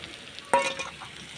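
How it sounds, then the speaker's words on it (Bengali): Taruli (yam) frying in a pan sizzles with a soft, steady crackle, and a sudden clink of a utensil breaks in partway through. "এটা আমার প্রায় ভাজা হয়ে এসছে।"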